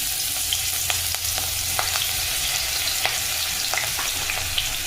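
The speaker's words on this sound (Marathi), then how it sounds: "आता त्याच्यामध्ये वाटलेली लसूण मिरची टाकून घेऊ" Ground garlic and green chilli hit hot oil in a used kadhai and set off a loud, steady sizzle, with light stirring scrapes and small pops at close range.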